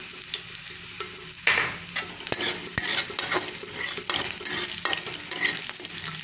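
Green chili and curry leaves frying in a pan while being stirred, with a constant close sizzle broken by scraping clatters of the spoon against the metal, loud and busy throughout with no talking.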